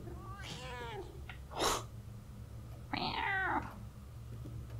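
A cat in a church in Murdered: Soul Suspect gives two clear, close meows separated by a short sharp sneeze-like burst, over a low steady hum.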